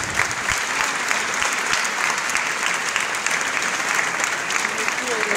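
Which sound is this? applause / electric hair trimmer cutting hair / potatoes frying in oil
applause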